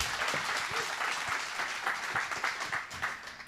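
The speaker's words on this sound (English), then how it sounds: "I want everyone to give one more round of applause for Lauren." An audience at a cycling summit applauds speaker Lauren Schuck, a dense, sustained round of clapping from a crowd in a hall, heard at a moderate distance and tapering slightly toward the end.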